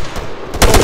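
Rifle gunfire in the ArmA 3 video game, a short loud burst of sharp shots with a heavier report near the end, close and alone.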